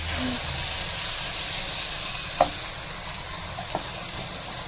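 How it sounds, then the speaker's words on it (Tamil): Onions and tomato frying in a pan give a steady, moderately loud sizzle and hiss, with a couple of brief clinks of stirring and no talk over it. "வெங்காயம் நல்லா வதங்கிடுச்சு"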